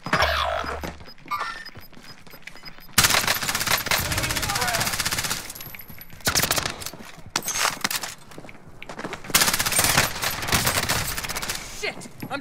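Bursts of rapid automatic gunfire in Call of Duty: Modern Warfare, loud and close, come in long dense volleys with brief gaps, mixed with game effects and a voice calling out.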